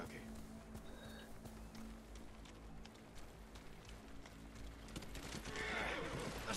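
Horse hooves clip-clop in a steady galloping rhythm in the video game Ghost of Tsushima, continuous and moderately close, growing a bit louder toward the end with a faint whinny-like tone.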